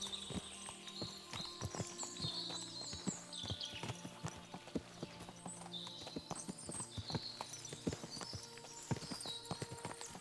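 Horse hooves clip-clop at a steady walking rhythm in the medieval video game Kingdom Come: Deliverance 2, crisp and fairly close over a soft ambient bed, with a few faint tonal game sounds above.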